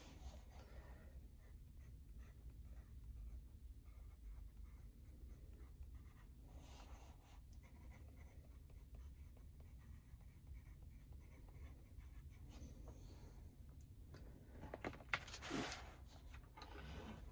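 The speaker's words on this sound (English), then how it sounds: "might as well use my new pencil, and we'll swatch out these first" A pencil scratches colour swatches onto paper in quiet, continuous strokes, steady rubbing and scribbling with a few louder scraping bursts near the end.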